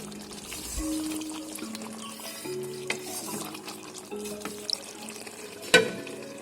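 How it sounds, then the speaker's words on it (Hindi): Chicken and arvi (taro root) are stirred in a pan with a spoon, soft scraping and gentle sizzling under a faint hum, ending in one sharp metallic clink. "इसको मिक्स कर लें।"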